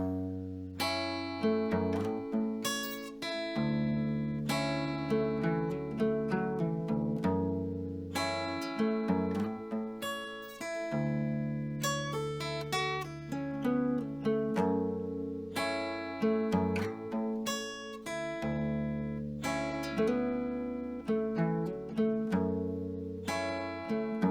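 Acoustic guitar plays a fingerpicked pattern, plucked notes over low bass strings, steady and rhythmic, close and clear with no voices.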